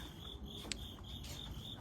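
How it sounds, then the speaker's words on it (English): Crickets chirp steadily in a high, pulsing trill, fairly close, with nothing else heard. "We got a nice amount of crickets."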